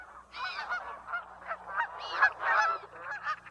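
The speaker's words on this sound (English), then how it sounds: "The call of the Canada goose is autumn music along the Mississippi Flyway." Canada geese calling along the Mississippi Flyway in Minnesota in October, a loud, continuous chorus of overlapping honks, close and clear, with no talk.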